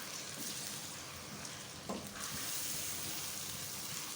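Coarse minced meat fries with garlic and ginger in a pan, a steady sizzle with a brief scrape or stir partway through, fairly quiet and without talk.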